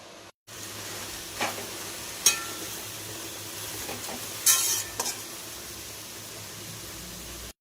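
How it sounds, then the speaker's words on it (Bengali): Chopped taro leaves steaming in a covered wok, giving a soft continuous hiss with a few brief clinks and a short louder burst, fairly quiet and close, no talking. "শাকটা আমি ভাপিয়ে নেব, তার জন্য আমি কড়াইতে বসিয়ে দিয়েছি।"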